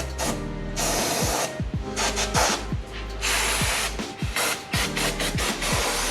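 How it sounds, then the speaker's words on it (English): Chain cleaner is sprayed onto the slightly rusty chain of a 2024 Yamaha MT-07 motorcycle in bursts of loud, close hissing, broken by short pauses and soft clicks as the wheel is turned; no voices. "Instructions in that chain cleaner is literally just spray on, let sit, rinse off."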